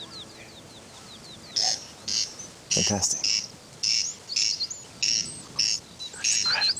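A corncrake in Ireland gives its rasping, repeated crex-crex call in a steady rhythm of paired bursts, loud and close, with the sound echoing off nearby walls; a voice speaks briefly.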